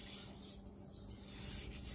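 A Miyabi Mizu kiritsuki kitchen knife is drawn across a 1000-grit Japanese water stone under light pressure, making a faint, steady rubbing hiss of close, even strokes.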